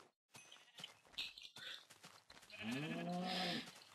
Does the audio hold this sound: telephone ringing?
no